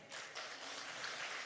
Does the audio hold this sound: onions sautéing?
no